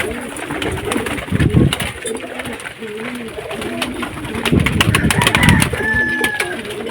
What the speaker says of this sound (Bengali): দুপুরবেলা কবুতরগুলারে খেতে দিয়ে দিলাম।